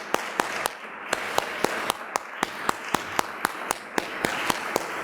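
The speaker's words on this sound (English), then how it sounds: "how about a round of applause for York's own" Audience applause at a mayor's State of the City address in York, heard as a steady patter of clapping with sharp, regular claps standing out, continuous throughout.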